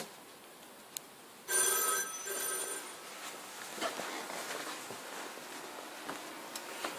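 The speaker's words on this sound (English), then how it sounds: "you hear it ringing downstairs." A telephone bell on a Panasonic PBX line rings downstairs, a faint, distant burst of ringing heard through the house, followed by soft room noise and a few light knocks.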